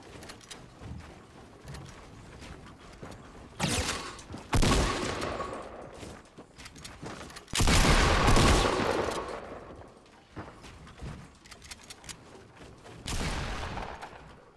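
Bursts of gunfire from the Fortnite video game crackle in several loud volleys, each a second or so long, with quieter game noise between them.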